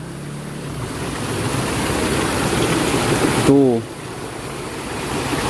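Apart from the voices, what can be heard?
river water flowing into a fish pond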